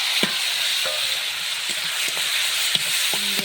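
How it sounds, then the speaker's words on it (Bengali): Food frying in hot oil after whole pieces have browned red, a steady close sizzle running throughout with a few faint stirring taps, no voices. "সুন্দর করে ভেজে নেব।"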